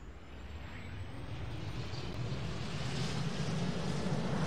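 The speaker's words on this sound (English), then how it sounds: "So let's start the engines." Engines of a Tu-344 swing-wing supersonic jet in the Roblox game Aeronautica spool up, a rising whine and roar that grows steadily louder with no talk over it.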